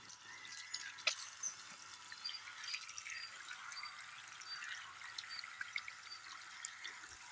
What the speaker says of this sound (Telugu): వాటర్ అయితే బాగా వస్తున్నాయి.